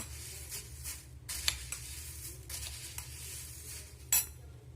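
Bhel puri ingredients being tossed together in a bowl, giving soft intermittent scraping and stirring rustles with a couple of light clinks, fairly quiet and close, with no voices.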